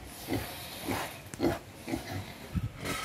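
Native pigs grunt in short, soft bursts, roughly one every half second or so, close by but fairly quiet, with faint background hiss between the grunts.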